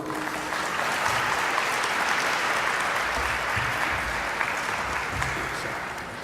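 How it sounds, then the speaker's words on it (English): A room full of people claps steadily for several seconds to welcome a speaker at an evening business and politics talk for a CIC branch, a dense, sustained applause that tapers slightly at the end. "please let us give a warm welcome to Dr. Doug Gould."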